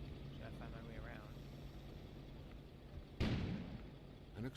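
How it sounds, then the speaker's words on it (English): A sudden explosion bursts out partway through the Assassin's Creed IV: Black Flag game scene. A loud broadband blast hits and then rumbles briefly over a steady ambient din. "An explosion suddenly occurred outside."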